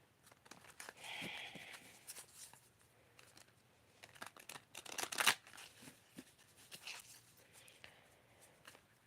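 Tarot cards being shuffled by hand, soft papery riffles and slides in quiet irregular bursts, close and faint, with one sharper flutter midway.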